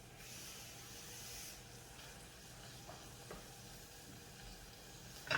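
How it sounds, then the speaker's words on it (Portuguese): Quiet, steady sizzling of bacon frying in a pan over high heat, with soft crackles and a faint hiss throughout and no voices. "Ó, o meu bacon fritando."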